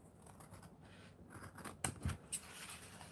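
Scissors trim excess paper from an art journal page, a few crisp close snips clustered near the end over a quiet room background.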